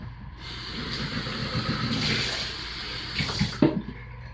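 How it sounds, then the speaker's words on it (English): Lye solution pours into oils for a cold process shaving soap, a steady liquid splashing stream that swells and then ends with a few knocks and clinks of the container. "pouring our lye solution into our oils"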